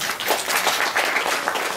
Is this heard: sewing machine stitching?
no